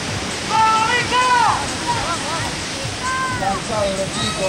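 Rough sea surf crashes at a South American biathle championship, a constant broad roar of waves with a voice calling loudly over it.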